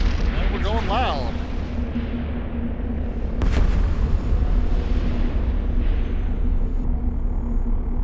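Sentry cannons fire in the EVE Online space game during a forward operating base test: loud, repeated heavy booms over a constant low rumble, with one sharp blast near the middle and a voice briefly heard early on.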